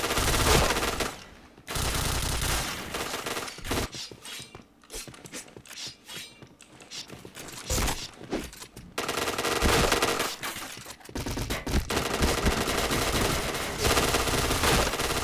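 Dual guns firing in a video game: loud, sustained bursts of rapid automatic fire, broken by short gaps and choppy stretches of single shots, before another long continuous burst.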